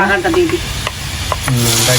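Fried onion and garlic tempering hits a pot of cooked dal with a loud, hissing sizzle and some stirring clatter, steady across the whole moment with no talking.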